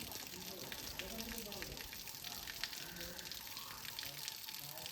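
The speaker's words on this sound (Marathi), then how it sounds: "तळीचे इथं हे गोमुख दाखवले, गाईचं मुख दाखवले, तिथून पाणी पडतंय" Water pours steadily from a cow-mouth spout into a temple pond, a soft continuous splashing heard at a distance and fairly faint, with voices talking over it.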